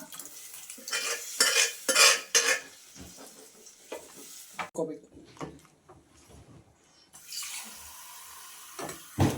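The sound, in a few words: pouring lentil cooking water into drumstick sambar and stirring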